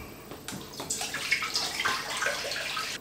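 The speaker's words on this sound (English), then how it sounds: "Now I'm going to pop my milk into the pan." Milk is poured into a pan for homemade mozzarella, a close, steady liquid splash and gurgle that runs continuously for a few seconds without speech.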